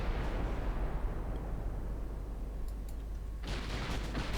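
Six-inch naval guns on Italian battlecruisers fire in the Ultimate Admiral Dreadnoughts game as a low continuous rumbling barrage, with a louder crackling burst toward the end and no speech.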